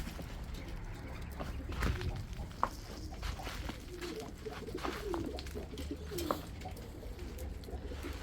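A captured female pigeon, caught after landing on a car roof, gives several low soft coos close by amid rustling handling noise and light background sounds.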